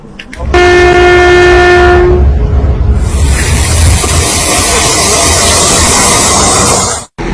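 A new Polish-made passenger train arrives in Ghana, sounding a loud sustained horn for about two seconds over heavy rumbling, then rolling past with a steady roar and high squealing wheels until the sound cuts off near the end.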